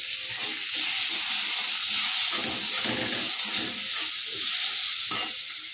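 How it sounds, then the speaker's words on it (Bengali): Potatoes fry in oil with a steady sizzle and hiss, a constant crackling hiss with faint clinks of a utensil underneath. "দেখো আলুটা ভাজা ভাজা হয়ে গিয়েছে, দিয়ে দেবো ঢালের তেলে"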